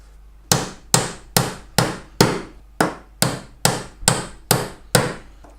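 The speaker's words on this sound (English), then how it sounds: "Put these nails in." Hammer strikes driving nails into a wooden top bar beehive during assembly, ten sharp evenly spaced blows about half a second apart, loud and close with no talk.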